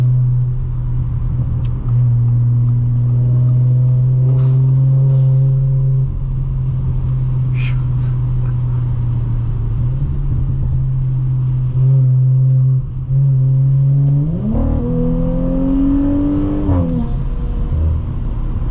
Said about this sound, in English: this is a very nice sounding exhaust in this car